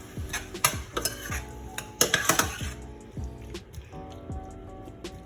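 Shrimp are stirred in oil in a pan, with repeated clinks, taps and scrapes of a utensil against the cookware over a soft sizzle, close and uneven in rhythm.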